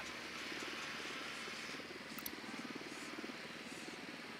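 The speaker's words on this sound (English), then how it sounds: "Deploying drone." A surveillance drone flying in the video game Ghost Recon Wildlands, a quiet steady rotor-like buzz and hum that stays even and distant, with no talk.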